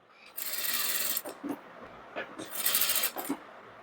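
Sewing machine stitching blouse fabric: two bursts of rapid, whirring mechanical stitching separated by quieter gaps with small clicks and knocks, moderately close with no talk.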